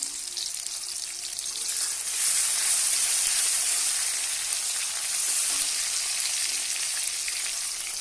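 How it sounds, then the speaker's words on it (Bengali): Chopped tomato and whole cumin frying in oil make a steady, fairly loud hiss and sizzle that runs on unbroken with no speech. "তেলের উপরে একটা টমেটো কুচি ছিঁড়ে দিয়েছি, যে টমেটোটাকে হালকা করে ভেজে নেব।"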